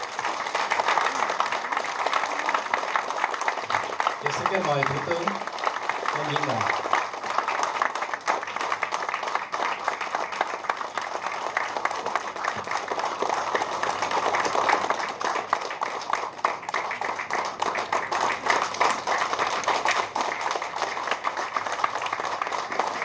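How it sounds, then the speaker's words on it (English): An audience at a Vietnamese government ceremony claps continuously for the Prime Minister coming to the stage, a dense, even applause that holds throughout while a voice briefly speaks over it. "give a round of applause to welcome Prime Minister Đào Minh Quan to the stage"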